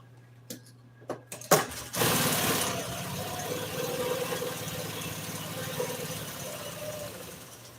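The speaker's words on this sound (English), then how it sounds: "First thing is I'm going to sew this right here." An upholstery sewing machine stitches a 1955 Chevy seat: a few clicks and taps, then a steady whirring run of rapid stitching that continues to the end at moderate volume.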